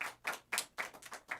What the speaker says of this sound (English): let's have a little applause for that.